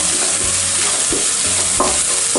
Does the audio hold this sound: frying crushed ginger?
yes